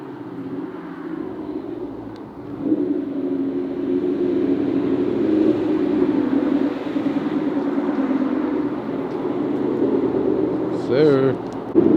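A Chevrolet Camaro ZL1 V8 idles steadily with a deep, rumbling burble, heard up close from the side of the car, with a slight swell and a brief clatter near the end.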